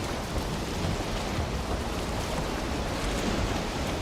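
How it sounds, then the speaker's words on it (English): Steady wash of ocean waves and surf in the video game Valheim, a constant broadband roar without breaks or talk. "Just relax to the sound of the waves"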